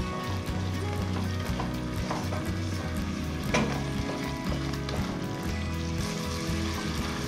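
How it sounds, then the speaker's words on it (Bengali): Ground spices for butter chicken fry steadily in a hot pan with a dense, constant sizzle, heard close up. Occasional light stirring scrapes sit over the sizzle. "সব মশলাগুলো খুব ভালো মতো কষিয়ে নেব।"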